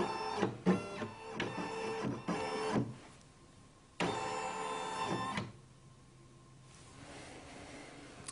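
A Brother INNOV-is combination sewing and embroidery machine scans fabric held in its embroidery frame, producing quiet mechanical whirring and motor hum in two separate bursts, each followed by a softer, near-silent stretch.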